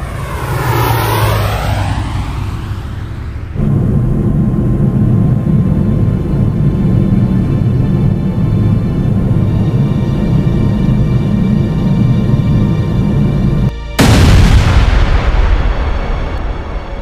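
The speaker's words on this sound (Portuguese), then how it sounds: "O avião se choca com o solo a mais de 400 km por hora." Crash of a passenger airplane into the ground at over 400 km/h: a loud roaring engine rush that cuts abruptly, followed by a sustained heavy rumble and a final violent burst, with no talk.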